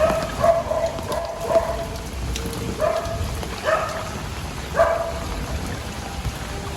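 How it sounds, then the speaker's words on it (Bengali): A German Shepherd barks in short bursts several times at moderate distance, over a steady wash of rain and water during flooding in Sylhet on Eid day. "আমরা জার্মান শেপার্ড কুত্তা"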